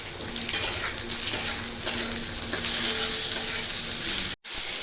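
A cut tomato frying with spices in a pan for loitha fish paturi gives a continuous close sizzle, broken by stirring scrapes and light utensil clinks, then a brief dropout near the end.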